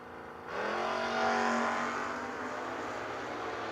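A 1938 Chevrolet hot rod and a rival drag car launch hard at a no-box shootout, engines roaring up from idle into a loud, sustained high-revving pull that holds steady to the end.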